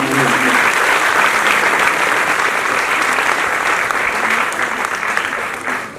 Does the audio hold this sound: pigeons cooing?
no